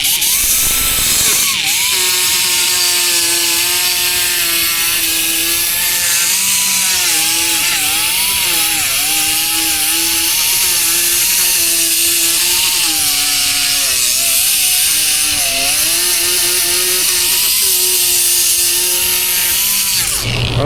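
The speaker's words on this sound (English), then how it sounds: "Sandpaper time. I gotta tell you, this vehicle is resisting the effectiveness of my power tools." A power tool runs continuously with a steady whine and harsh abrasive rasp as it sands a rusty car body, loud and close for the whole span after a brief start.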